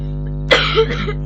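One person coughs once up close in a small indoor space, a short harsh burst with a brief throat-clearing rasp after it, over a steady low electrical hum.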